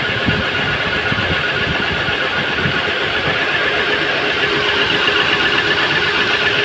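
Renault Kwid 1000cc engine idling on CNG with the AC compressor engaged and the fan running, shaking badly; a loud, steady close-up rumble with a faint squeal-like whine on top, no talking.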